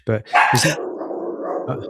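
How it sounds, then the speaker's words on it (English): A household dog gives a couple of short sharp barks near the start, close and loud, and people are talking around it. "that was our dog"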